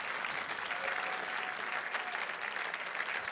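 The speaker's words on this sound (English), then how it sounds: "How about a big round of applause again for John and Shelley?" An audience at a school community event claps in a steady, dense round of applause, moderately distant and unbroken throughout, with no talk over it.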